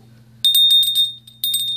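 A small metal hand bell in a thrift store rings in two bursts of quick repeated strikes, a bright sustained tone lingering between them, close and clear over a faint low hum.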